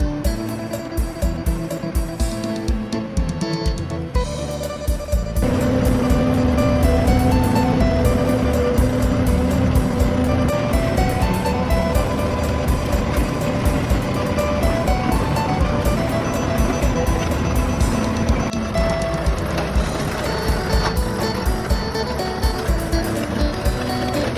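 A Kubota tractor ploughs a rice field, its engine droning steadily and loudly up close, jumping to a heavier, fuller roar after a few seconds and holding that continuous working note throughout.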